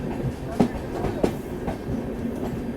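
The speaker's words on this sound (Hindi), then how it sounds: "कोई ट्रेन इसको ओवरटेक कर रही है, वो भी श्रमजीवी एक्सप्रेस।" A passing express train rolls alongside a Lucknow Mail carriage, giving a continuous rumbling clatter with a few sharp wheel clicks on the rails, heard from inside the coach.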